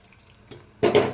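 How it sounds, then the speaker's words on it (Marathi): A quick splash of water hits a cooking pot holding aubergine, loud and close, after a faint clink. "आता आपण येनमा पाणी सोडू"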